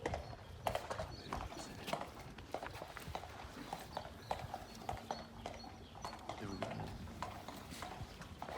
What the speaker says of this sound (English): This is a horse called Magic Saint